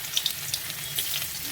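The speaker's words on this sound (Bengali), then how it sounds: "প্রথমে আদাগুলো দিয়ে দেবো" Ginger sizzles and fries in hot oil in a kadai, a steady close crackle with a few sharper pops.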